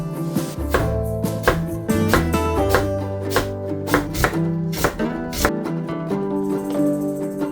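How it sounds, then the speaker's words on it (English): A knife cuts thinly through red onion on a board, a quick series of crisp, close chops and taps in a steady rhythm, clear and fairly loud with no talk. "Peel the red onion, then slice it thinly."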